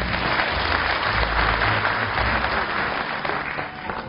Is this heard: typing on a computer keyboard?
no